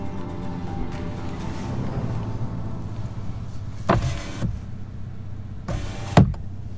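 Power window motor in a Jeep Wrangler JL, two short whirring runs of the motor over a steady cabin hum, fairly close and moderately loud, with no talking.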